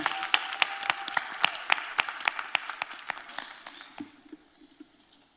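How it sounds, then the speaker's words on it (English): An audience at a Miami-Dade judicial candidate forum applauds the judicial candidates, with sharp distinct claps from nearby hands over a crowd wash that tapers off and fades toward the end. "Please clap it up for our judicial candidates again."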